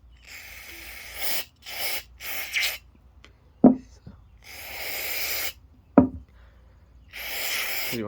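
Repeated hissing bursts of carburetor cleaner sprayed into a push-mower carburetor, some long and some short, broken up by a couple of sharp knocks.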